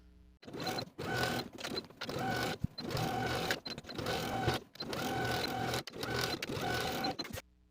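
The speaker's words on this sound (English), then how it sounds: "I'm going to sew the seam allowance to the facing from one center back straight across" A domestic sewing machine stitches a skirt facing to its seam allowance in repeated runs of steady mechanical whirring, each lasting about a second, separated by brief pauses.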